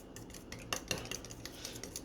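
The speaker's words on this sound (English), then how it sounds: "I just basically whisk it until there aren't any lumps of cheese left in it." A fork whisks an egg and cheese mixture in a bowl for spaghetti carbonara, quick quiet metallic clinks and scrapes against the bowl in an uneven rhythm, heard alone up close.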